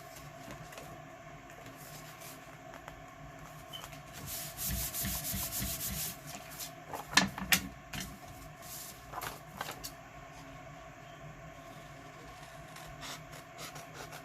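Paper for a junk journal envelope is trimmed to size. Close, faint rustling and scraping of scissors on paper carries a brief louder swish partway through and a few sharp snips, with no voices.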